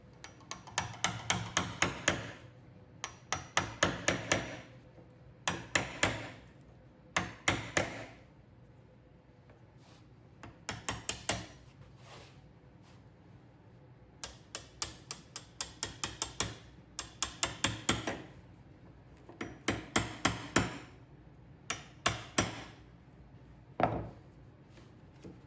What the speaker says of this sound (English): I used that as a guide with my hammer and chisel to clean up these inside corners